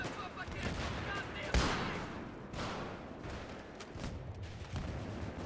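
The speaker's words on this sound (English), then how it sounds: "I'm shooting rockets straight out of their heads." A SMAW rocket launcher fires in a shooter video game amid a noisy battle, with a sharp blast standing out among continuous gunfire, explosions and rumbling combat noise.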